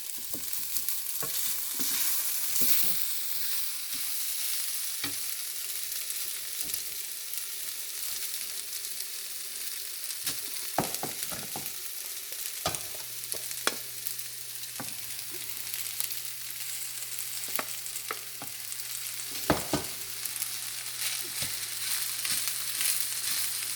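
Egg fried rice with garlic and ginger is stirred in a hot pan, a continuous bright sizzle broken by irregular scraping strokes and soft clatters of the utensil, with a faint steady hum underneath; no voices.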